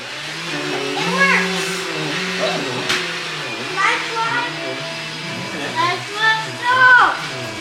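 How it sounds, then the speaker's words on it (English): A VacLife portable vacuum runs steadily at close range while cleaning a fabric couch, its motor whine holding under children's voices and talk, with brief surges as the nozzle moves. "let's give it a shot here on our couch that the dog's not supposed to go on."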